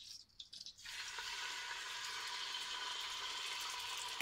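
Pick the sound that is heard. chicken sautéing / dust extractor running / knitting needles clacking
chicken sautéing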